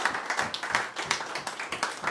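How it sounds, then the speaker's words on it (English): Veterans and their supporters clap for themselves inside a tavern during a commissioner's speech, a short stretch of scattered, moderately loud hand claps from a small crowd, with no talking. "Give yourselves a round of applause"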